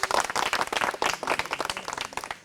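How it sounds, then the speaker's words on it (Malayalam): An audience at a comedy game show claps to welcome a contestant, a dense burst of applause that holds steady and then tapers off slightly near the end. "തൻ്റെ ഊഴം കാത്തിക്കുന്ന ജോസിനെ കൈയടിച്ചുകൊണ്ട് സ്വാഗതം ചെയ്യാം സുഹൃത്തുക്കളെ"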